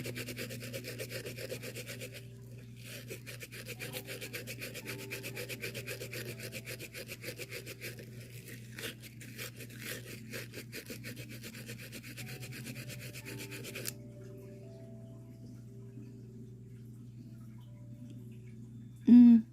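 A nail file scrapes at press-on nail strips in rapid rhythmic strokes, close and distinct against a low steady hum, then stops partway through and leaves the hum alone before a brief bump at the end.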